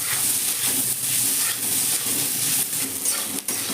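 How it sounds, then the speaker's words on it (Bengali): Sliced onion, garlic and potato fry in a hot pan while being stirred, giving a steady loud sizzle with scraping strokes throughout and no talk. "পেঁয়াজ, রসুন আর আলুটাকে আবার খুব ভালো করে নেড়ে নেবো"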